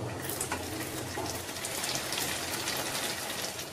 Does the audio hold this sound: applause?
no